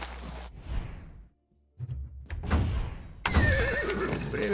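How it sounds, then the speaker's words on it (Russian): A horse in the video game Far Cry 6 gives a loud whinny followed by another neigh, with a few hoof thuds and movement sounds between them and no talking. "Привет, лошадь."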